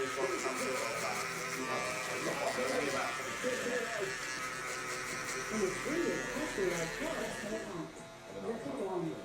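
Electric hair clippers fade a low, tight taper haircut, giving a steady close buzzing hum that runs throughout while someone talks over it.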